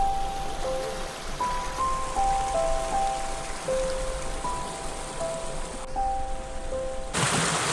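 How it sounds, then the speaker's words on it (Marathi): Water pours down from above at a scenic hidden spot near Mahad, a steady rain-like wash of falling water heard alone, with faint thin tonal lines drifting through it. "इथनं वरनं पाणी येते."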